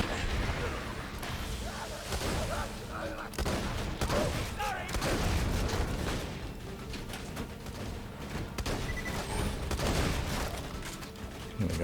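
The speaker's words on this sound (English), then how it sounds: "There we go, a little shotgun battle between me and this rogue." Borderlands 2 combat with a close shotgun exchange against a rogue and a turret firing, heard as dense, repeated bursts of gunfire and impacts over the whole stretch, with voices at times.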